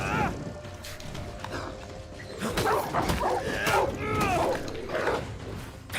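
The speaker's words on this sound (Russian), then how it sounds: "противник издает звук характерный. То есть, видите, он рычит, значит, атака готовится." An enemy in the Banishers: Ghosts of New Eden video game growls and snarls before attacking, loud and continuous with harsh bursts layered over game sounds, while someone talks over it.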